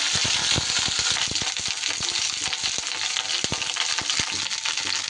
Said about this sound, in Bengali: তেলটা আমার গরম হয়ে গেলে আমি ফুলকপিগুলো দিই।